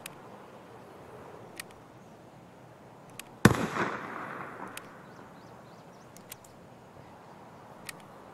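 A single loud gunshot in the video game Escape From Tarkov cracks out near the middle and its echo decays over about a second, with a few faint sharp clicks scattered before and after.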